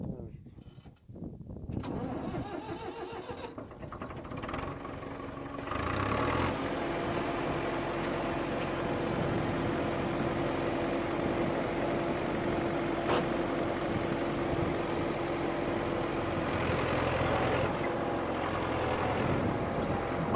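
A farm tractor in Tsnori, Georgia cranks over and settles into a steady, loud diesel drone that runs unbroken for the rest of the stretch.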